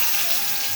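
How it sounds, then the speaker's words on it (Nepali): Chopped onion sizzles in hot oil in a pan, a steady, bright frying hiss with no pauses over less than a second, with no talk. "त्यसको लागि मैले सबभन्दा पहिला प्याज राख्दैछु।"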